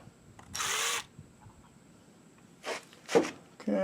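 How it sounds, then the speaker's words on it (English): Drill fitted with a droop nose bit boring into metal, heard in several separate bursts: one long whirring run near the start, then shorter spurts toward the end, with quiet gaps between. "we'll see if we can find somewhere our droop nose drill here will actually hold"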